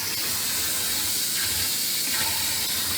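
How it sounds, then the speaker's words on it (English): Hot water runs from a sink tap in a home, a steady loud hiss of flowing water that holds even throughout, close by and alone without voices. "Ooh, that's some hot water."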